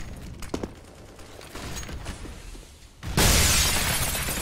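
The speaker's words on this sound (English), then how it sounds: "Nades exchanged." Grenades explode in a Counter-Strike match on the Cobblestone map: faint scattered pops, then a sudden loud, sustained burst of blast and shattering noise.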